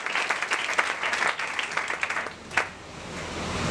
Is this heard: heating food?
no